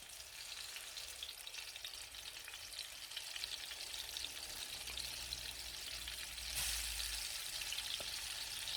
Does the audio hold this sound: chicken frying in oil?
yes